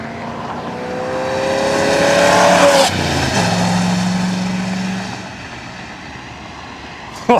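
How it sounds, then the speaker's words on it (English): A 1972 Corvette LT-1 V8 roars past with strong engine and induction noise, its pitch climbing as it approaches and then dropping off sharply, fading into the distance with a brief knock near the end. "That induction noise and the engine noise, like he was saying, just sounds incredible."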